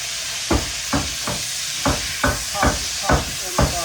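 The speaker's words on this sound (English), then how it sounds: "I'm going to go ahead and start putting in my asparagus and start tossing it in the butter" Asparagus spears are tossed in a pan of hot butter, and about nine dull knocks of the pan or utensil fall at roughly regular intervals. A steady sizzling hiss runs under them the whole time.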